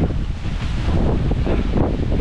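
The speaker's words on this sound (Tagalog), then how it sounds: "grabe hangin mga idol" Strong wind roars and buffets the microphone, a loud continuous rushing noise with no other sounds.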